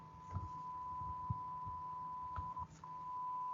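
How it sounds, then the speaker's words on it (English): A faint, steady high-pitched electronic beep tone holds for the whole stretch, with soft low thumps beneath it. "it has beeped again"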